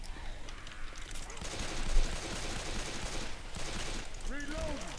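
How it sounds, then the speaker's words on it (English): Rapid bursts of gunfire cut down zombies in the game Left 4 Dead 2, dense clattering shots running throughout with a low rumble beneath, and a voice speaking briefly near the end. "I just needed to shoot some zombies"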